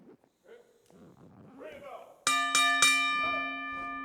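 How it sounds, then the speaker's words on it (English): Several sharp clangs of a wrestling ring bell at a championship wrestling event, ringing out loud and close with long sustained tones after a stretch of commentator talk. "Bell sounds"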